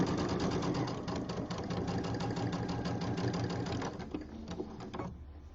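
A sewing machine runs steadily, stitching quilt sashing strips with right sides together, its rapid mechanical hum close and loud before slowing and stopping near the end with a few final clicks.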